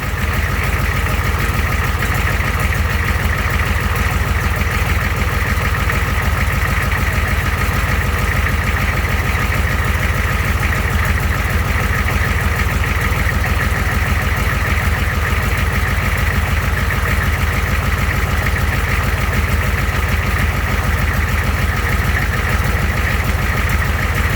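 A military Humvee (M1152) diesel engine idles steadily nearby, a loud continuous low rumble and throb with no breaks and no voices.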